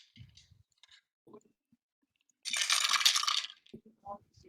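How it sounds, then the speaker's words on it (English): Glowing dice clatter and rattle across a surface in one loud rolling burst, set among scattered small clicks and faint handling sounds in a quiet room. "I'm playing with my glowy dice."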